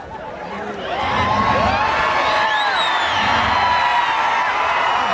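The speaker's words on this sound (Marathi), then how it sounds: "हा अखंड कुस्तीतला जनसागर देवाथापासाठी शिट्ट्या वाजवतो टाळ्या वाजवतो आवाज उठवतो" A huge crowd at a Maharashtra kusti wrestling bout featuring wrestler Deva Thapa roars close and loud, with shrill whistles and cheering swelling after the first second and holding steady.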